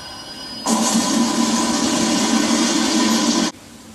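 A train passing, slowed down to slow motion, heard as a sudden stretched-out roar that starts abruptly, holds as a steady loud droning rumble with a low hum for about three seconds, then cuts off sharply.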